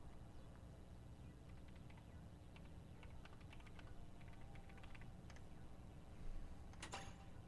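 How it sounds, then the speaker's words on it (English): Computer keyboard typing, soft scattered keystrokes clicking at close range over a steady background hum, with a brief louder clack near the end. "I'm so bad at typing."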